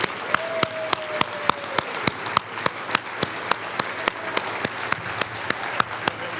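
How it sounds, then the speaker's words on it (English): A banquet crowd at a county political dinner applauds elected officials, steady clapping from many hands with a few sharp individual claps standing out, continuous throughout. "Let's give the elected officials a round of applause."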